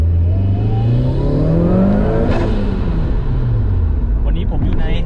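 A Mitsubishi Lancer Evolution 6.5 Tommi Makinen Edition engine revs and climbs through the gears, its rising drone heard from inside the car, with someone talking over it the whole time.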